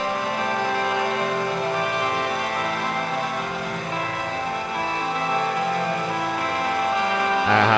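Arturia MicroFreak synth beat recorded onto worn tape, with pitched-down notes running under a sample: a dense, steady, loud layered texture of sustained tones and rhythmic pulses playing throughout, alone without talk.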